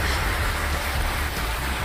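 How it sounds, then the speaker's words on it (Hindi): Torrential downpour in Kalimpong turning a road into a river, heard as a loud, steady, dense hiss of heavy rain with no letup and no voices. "आसमान से बरसी मूसलाधार बारिश ने सड़क को दरिया में तब्दील कर दिया"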